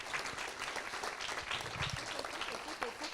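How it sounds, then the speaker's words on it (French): A crowd at the closing ceremony of a game jam applauds the winning team from Montpellier. The clapping is dense and steady, with a voice talking over it. "on peut les applaudir, s'il vous plaît"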